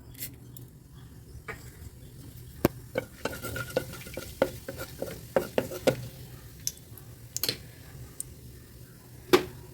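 Cinnamon and cumin fry in oil in a cooker on the stove: scattered sharp clicks and scrapes of stirring against the pot over a faint, low sizzle, fairly quiet and close, with no voices.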